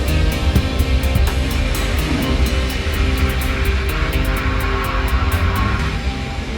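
A small plane flying low through mountains, its engine drone loud and steady throughout, with a dense, rumbling roar that barely varies in level.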